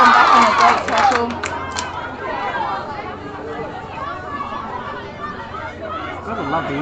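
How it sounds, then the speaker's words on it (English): Supporters at a women's netball cup match clamour and chatter in a lively crowd, with shouts rising near the start and then settling into a steady hubbub of voices. "Gotta love the energy of the supporters from both teams out here today and cheering on both teams."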